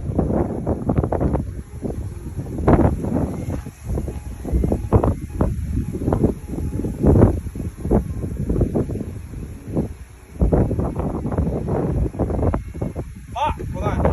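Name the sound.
wind blowing outdoors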